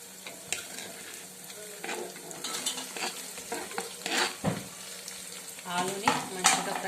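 Potatoes go into a pan of already-fried tomatoes and sizzle in the oil, with irregular scrapes and clinks of a spoon stirring against the pan, rising and falling over several seconds with no talking.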